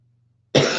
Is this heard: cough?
yes